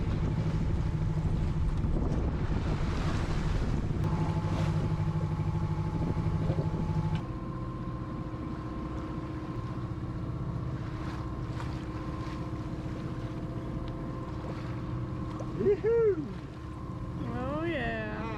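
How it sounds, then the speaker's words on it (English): Sailboat moving under sail through rough passage water near the Raz de Sein, the engine assisting at 1500 revs with a steady low drone beneath wind and splashing waves, fading somewhat midway, with a few brief squeaks near the end. "We've got the engine just helping us as we like to do in these trickier bits of water."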